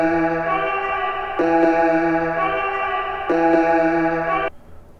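In a music production session, a processed vocal sample part plays loud and close as sustained, harmonically rich tones that shift in layered steps and then cut off abruptly, with no talking.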